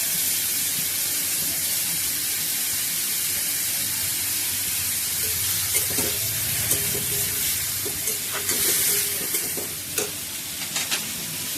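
Ginger garlic paste fries in hot oil, giving a steady close sizzle and hiss with occasional spatters and light stirring scrapes that grow busier toward the end.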